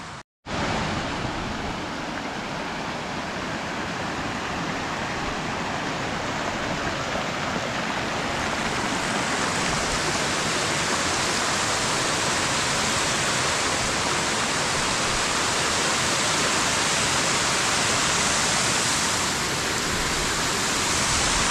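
A large mountain waterfall near Dodital, Uttarakhand, roars as a steady, dense, loud rush of falling water that continues unbroken with no voices.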